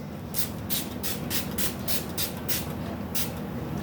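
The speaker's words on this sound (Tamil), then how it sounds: "நீங்கள் இந்த டோனரை வந்து என்ன பண்ணிக்கலாம்னா ஜஸ்ட்டு வந்து ஸ்ப்ரே பண்ணிக்கலாம்" Facial skin toner spritzed onto the face in about nine quick, crisp hissing bursts, evenly spaced and close up, with no talking.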